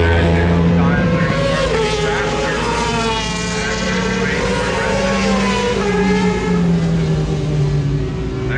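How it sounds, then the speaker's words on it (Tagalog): Racing motorcycles rev and roar continuously on the Shannonville Motorsports Park track during superbike practice, a loud, steady engine drone with shifting pitch. "Sarap, nakakamiss yung tunog ng motor."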